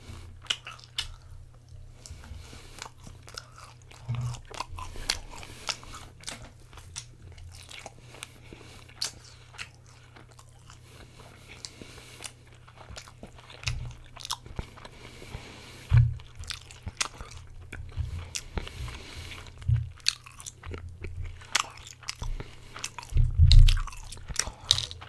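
Close, crisp crunching of fried chicken cartilage (jishi) being chewed, a long run of small wet bites and squishes in an irregular rhythm, with sharper loud crunches now and then, no talking.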